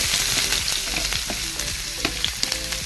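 Chopped onions hit hot coconut oil with mustard seeds and curry leaves in the pan and fry with a busy steady sizzle, while a spoon scrapes and stirs through it.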